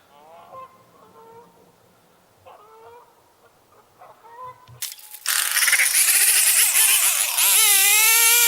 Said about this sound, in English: it only looks like there's a couple geese over there. But man, are they making a racket.